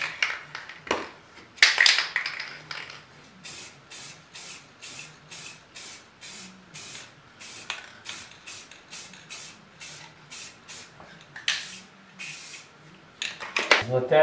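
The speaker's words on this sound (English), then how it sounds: "The bottom, I'm gonna spray a little clear matte acrylic." Bursts from a spray can of clear matte acrylic hiss in repeated short puffs, with a few longer blasts near the start and end, amid faint clicks and low background noise.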